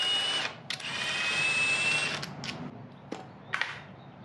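Power tool whirring through two long bursts to crack loose the oil filter housing bolts on a Honda K24 engine, with short clicks and brief spurts between them, close and fairly loud.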